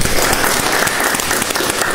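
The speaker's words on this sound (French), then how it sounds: "Merci de vous applaudir." A studio audience applauds on a midday Malian TV talk show, a dense, loud, continuous wash of clapping that holds steady for the whole two seconds with no voices over it.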